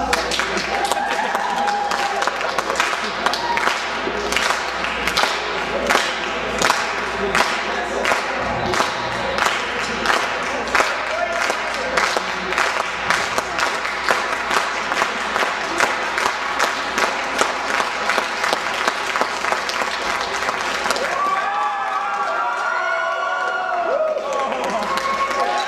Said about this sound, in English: Let's get everyone to clap.